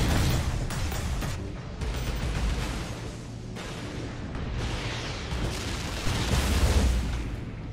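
Lascannon fire and explosions during a Warhammer 40,000: Space Marine 2 battle against Greenskins and Chaos, a dense, continuous wash of booming blasts and crackling bursts, loud and layered with no pause.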